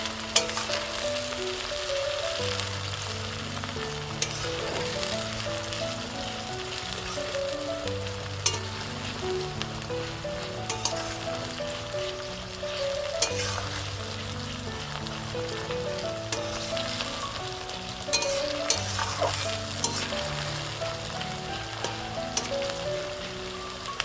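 Onions for a Bengali chicken curry sizzle steadily in a pan while a spatula stirs them, a dense ongoing frying hiss with scattered scrapes and soft clinks, close and continuous, with no talking.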